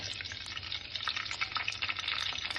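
Tempering seeds fry in hot oil in a home kitchen, giving a steady, dense sizzle with crackles close up and no voices.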